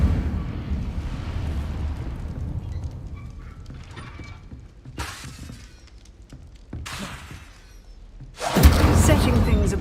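The Incendio fire spell bursts in Hogwarts Legacy with whooshing, crackling blasts of flame, several short flares followed by a louder eruption near the end, over low game ambience.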